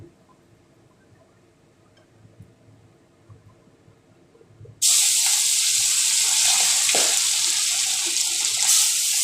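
Puti fish meet hot oil in a pan with a sudden, loud, steady sizzle that stays strong to the end, after several seconds of quiet kitchen background.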